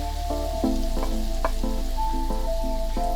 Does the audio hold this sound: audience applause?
no